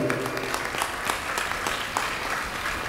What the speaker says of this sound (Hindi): अभी महेंद्र जी का जोरदार स्वागत तालियों से होना चाहिए